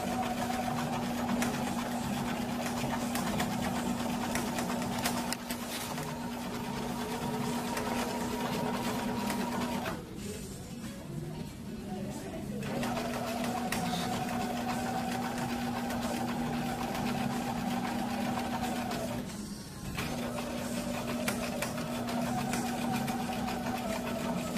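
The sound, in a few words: sewing machine stitching a flat felled seam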